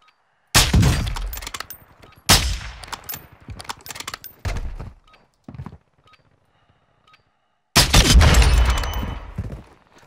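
Loud, close bursts of rapid automatic gunfire in Warzone come in three main volleys with shorter shots between them, separated by near silence, with a glassy breaking edge on the impacts.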